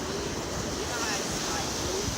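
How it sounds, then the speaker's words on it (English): Big Atlantic Ocean waves crash in a steady, loud broadband roar close to the microphone, with wind buffeting throughout and no clear individual breaks. "Like these waves are huge."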